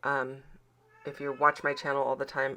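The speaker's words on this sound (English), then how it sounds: "I apologize for the cat in the background." Cat meowing in the background during a scrapbooking session, a short meow near the start before a person starts talking over the rest.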